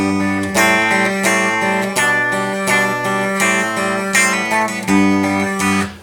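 A fingerpicked guitar pattern plays by itself, close and clear, with alternating low bass notes and brighter plucked treble strings in a steady, ringing rhythm.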